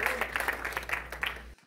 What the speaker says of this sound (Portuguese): Salve de palmas para o Senhor.